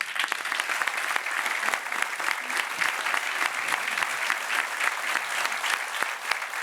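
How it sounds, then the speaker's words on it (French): Loud, dense applause from a crowd greeting a college group at a Corsican concert, many hands clapping continuously and evenly with no pause, and no voices on top. "il faut les applaudir aussi"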